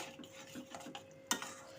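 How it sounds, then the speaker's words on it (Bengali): Eggs are stirred into potato and onion in a pan, making soft, faint scraping strokes with one sharper utensil click against the pan. The sound is quiet, close and wordless. "এখন আমি ডিমগুলোকে ভালো মতো করে আলু পেঁয়াজের সাথে মিক্স করে দেব।"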